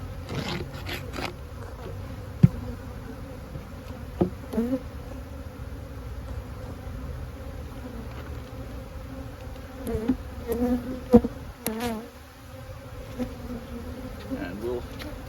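Honey bees swarm and hum steadily around an open beehive while its bottom board is cleaned, a dense close buzz running throughout, broken by a few sharp knocks and handling clatters.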